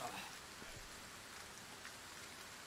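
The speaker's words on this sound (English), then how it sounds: "So, it's raining." Steady rainfall in the video game Resident Evil 4, a soft continuous wash of falling rain with no other clear sounds on top.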